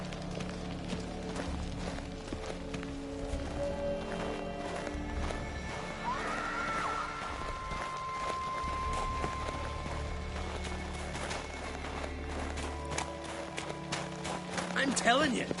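In The Witcher 3, a horse's hooves clip-clop and thud across the ground amid game music, with a whinny and speech woven through.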